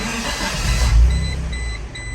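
A Geo Tracker engine idles steadily after a restart without throttle, a low continuous rumble with a faint dip and recovery, close and alone with no talking.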